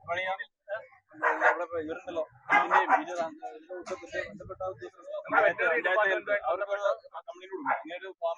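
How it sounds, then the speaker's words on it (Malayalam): Several stray dogs bark and yip in bursts as a lorry is unloaded at a Kerala roadside protest. The dogs sound moderately near but are largely masked by continuous talking that runs through the whole stretch. "ഇതിനിടയിൽ കുറേയധികം നായ്ക്കളെ ലോറിയിൽ നിന്ന് പുറത്തിറക്കിയിരുന്നു"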